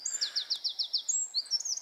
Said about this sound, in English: Yeah, that bird.